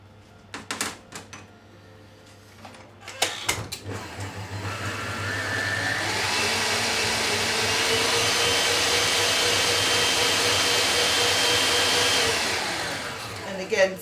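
An electric mixer whirs steadily through a bowl as maple syrup is mixed in, rising to a sustained loud motor drone after a few clicks and knocks, then winding down near the end.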